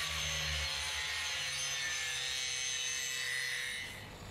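Cut metal winch anchor tube ends being cleaned up and bevelled before TIG welding end caps back on, a steady continuous filing or grinding rasp held for about four seconds and tapering off at the end, close and alone.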